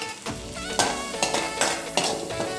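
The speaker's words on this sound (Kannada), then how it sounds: "ಇದು ಚೆನ್ನಾಗಿ ಹಸಿ ವಾಸನೆ ಹೋಗೋವರೆಗೂ ಫ್ರೈ ಮಾಡಿ." Ginger garlic paste and chopped green chillies with curry leaves fry in hot oil for pav bhaji, a loud, close, continuous sizzle broken by a few sharp scrapes and taps of a spatula against the pan.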